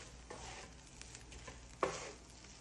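Fried rice being stirred and tossed in a pan, a soft continuous sizzle broken by scraping strokes and one sharper clack of the utensil, with no talking.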